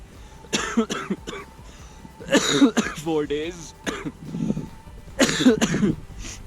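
Several harsh, close coughs in bursts at a mountain base camp in Ladakh, interspersed with a person speaking briefly between them.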